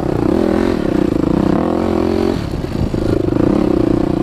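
A motorbike ridden around a backyard, its engine droning steadily and close, dipping briefly mid-ride before surging back up with rough, continuous revving.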